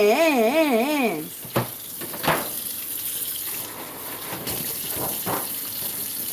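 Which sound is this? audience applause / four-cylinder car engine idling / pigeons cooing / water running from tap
water running from tap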